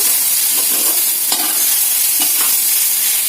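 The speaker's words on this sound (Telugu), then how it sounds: "చూడండి ఫ్రెండ్స్, ఇలా అయితే బాగా కలుపుకోండి." A spoon stirs ridge gourd egg curry in a hot pan, scraping and clicking irregularly over a loud, constant sizzle, close up with no voices.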